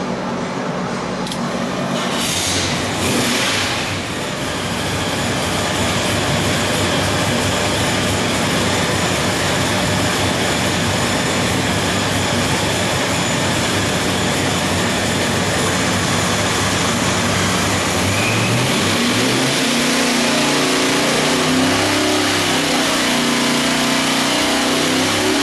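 An 1100 hp big-block Chevy with a blow-through carburetor roars continuously at full load on an engine dyno, a loud steady drone rising in pitch as it revs, then dropping and wavering near the end of the pull.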